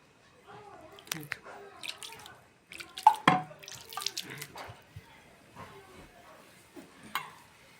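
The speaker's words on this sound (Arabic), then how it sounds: "غادي نبدا نرش شويه بشويه ديال الماء" Water is sprinkled bit by bit onto bran couscous (sikuk) while it is mixed by hand, giving soft scattered patters and rubbing, grainy stirring sounds in a quiet room, with brief louder splashes.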